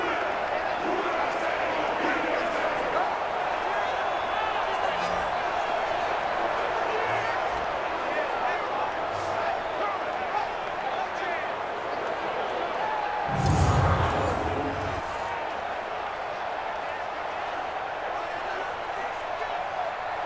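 Steady roar of a stadium crowd inside the Dome in the football video game Madden 20, a constant dense wash of noise with a brief louder swell partway through.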